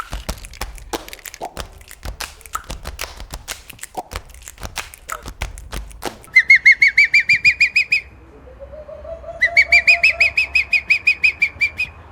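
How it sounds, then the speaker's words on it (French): A house sparrow gives a rapid, repeated series of bright chirps in two bursts, loud and close, after a stretch of clicking and rustling noise outdoors. "qui est le moineau"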